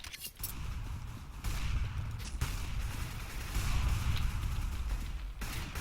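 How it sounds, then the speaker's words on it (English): Gunfire in the game Counter-Strike, dense and continuous bursts of shots at moderate level lasting throughout, with no talking. "Hey, stop shooting."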